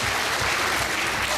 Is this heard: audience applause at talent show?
yes